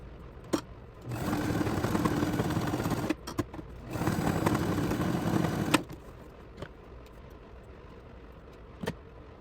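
Sewing machine stitching a fabric bag handle, two sustained bursts of steady motor whir a few seconds each with a short pause between, followed by quiet handling clicks.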